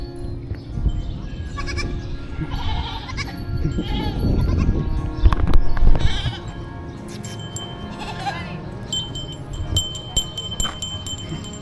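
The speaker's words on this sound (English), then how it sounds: "we're going to say hello to a random goat on the street" A goat bleats repeatedly on a street in Pakse, Laos, its calls standing out over steady outdoor traffic and town background noise, loudest in the middle of the stretch.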